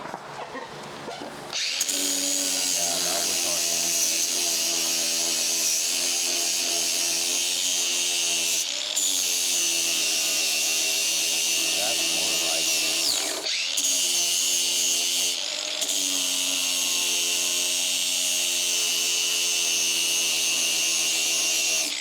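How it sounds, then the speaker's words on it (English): A power tool fitted with a sanding pad grinds steadily over metal welds, a loud continuous whine that runs for about twenty seconds with a few brief pauses as the pad is lifted. "So let's try the sanding pad instead, that we had a lot of success with"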